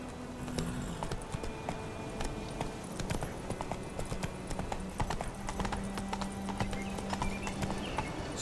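Hoofbeats of the horse Roach clip-clopping at a steady trot in The Witcher 3, a continuous rhythmic patter close by, with a brief whinny mixed in and no talk.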